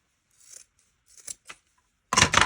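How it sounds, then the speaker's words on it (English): Close scissors snip through ribbon in several short, crisp cuts with pauses between, ending in two louder, fuller snips. "then I'll get my scissors and just even out"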